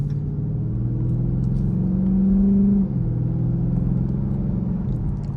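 A 2023 Dodge Charger Scat Pack engine revs from idle in a steady, loud rumble, with a brief rising surge in the middle before settling back to a low drone; no one talks.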